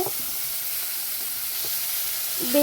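Meat and potatoes cooking in a pan give a steady, close sizzle with a bright hissing wash and faint stirring clicks, holding even throughout with a slight swell and a tonal clink near the end.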